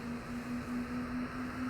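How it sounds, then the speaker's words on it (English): An aircraft engine in Microsoft Flight Simulator spools up at Heathrow Airport, a faint steady whine over a low droning hum, with no talking. "Oh, that's a very quick engine start up."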